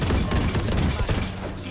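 Gunfire in a competitive shooter video game comes as a dense, fast stream of close, loud shots with thuds mixed in. It lasts under two seconds and there is no speech.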